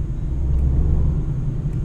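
The small engine of a third-generation Citroën C3 accelerates, a low, steady rumble with a muffled cabin quality that stays fairly loud and even throughout.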